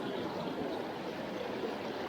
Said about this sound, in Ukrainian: Такі каскади невеличких водоспадів.